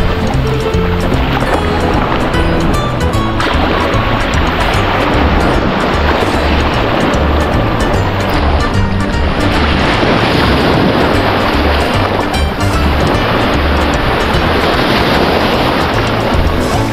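Sea waves rolling onto the coast of Sicily: loud, continuous surf roar mixed with heavy wind buffeting, steady throughout with no pauses.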